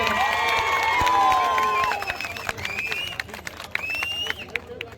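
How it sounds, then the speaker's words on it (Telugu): A crowd at a birthday celebration in Jagtial claps and cheers while voices carry on, the applause dense at first and then thinning into scattered claps. "చప్పట్ల ద్వారా అందరికీ జన్మ శుభాకాంక్షలు"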